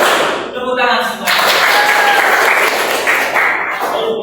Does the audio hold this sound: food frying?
no